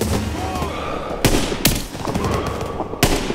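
Machine gun fire in the World War II shooter Call of Duty WWII, a steady rattle of automatic gunfire under battle noise with several sharp louder shots punching through, while a voice calls out in the background.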